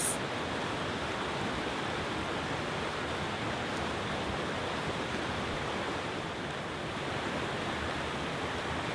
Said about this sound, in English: The stormy stream cascades over a series of stones, creating the effect of many small, white